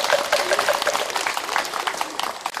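Applause greets a reclining Buddha eye-opening ceremony at a Korean temple, a dense, steady patter of many hands over 2.6 seconds with a faint voice underneath.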